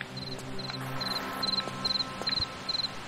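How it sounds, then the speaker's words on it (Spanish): Crickets in the Tomb Raider video game: a regular series of short, high chirping trills repeating every half second over a low ambient drone, fairly close and unbroken, with no talk. "cada vez que voy a esta zona empiezan a sonar unos grillos ahí de forma incesante"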